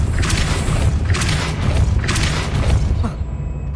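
Depulso spell from the Hogwarts Legacy video game: three loud booming blasts in a steady rhythm over a constant low rumble, each a broad burst that fades before the next.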